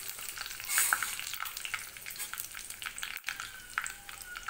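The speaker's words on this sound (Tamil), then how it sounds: "கடுகு இதானதும் நம்ம வந்துட்டு மிளகாய், காஞ்ச மிளகாய் போட்டுக்கலாம்." Dried red chillies frying with mustard seeds in hot oil, a fairly faint, steady crackling sizzle with scattered small pops, close by and without talk.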